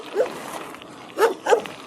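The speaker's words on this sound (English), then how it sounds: "Oh, there's a dog in the road." A dog on a road gives three short barks, one then a quick pair, heard close and fairly loud with no talk over them.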